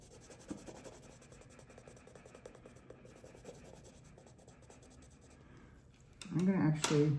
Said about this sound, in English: I'm gonna go in there with a green pencil